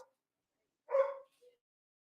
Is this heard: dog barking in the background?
yes